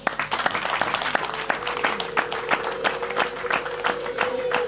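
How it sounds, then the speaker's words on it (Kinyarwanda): Wedding guests clap together in a sustained round of applause, sharp, fairly close claps falling in a loose rhythm, with a faint steady tone underneath. "mwantiza amashyi ngaha abantu baduhaye ikaze"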